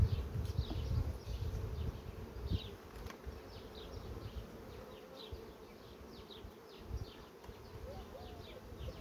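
Honey bees buzz steadily around an open production beehive full of honey frames, a dense low hum close by with occasional sharper passes of individual bees and no speech.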